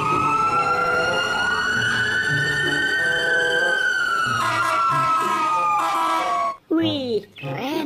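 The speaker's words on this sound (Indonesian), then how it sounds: "Ternyata mobil pemadam kebakaran." A toy fire truck siren wails in a rising and falling electronic tone, loud and close, briefly cutting out near the end.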